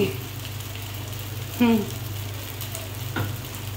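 Tomato and tomato sauce frying and being stirred with meat in a pan for chow mein, a steady close sizzle with two brief louder stirring scrapes, no talking.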